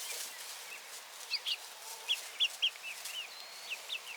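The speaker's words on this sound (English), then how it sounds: "They're challenging each other like roosters." Young chickens sparring like roosters give short high chirps and clucks, a scattered series of faint peeps over a quiet background hiss.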